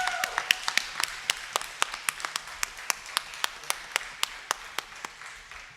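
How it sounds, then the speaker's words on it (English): Sparse, scattered clapping from a small audience at a Kuchipudi dance debut, honoring the Carnatic vocal accompanist; about twenty sharp separate claps spread evenly over several seconds, fairly quiet, with no voices. "Please give a round of applause to Shri Uma Shankar"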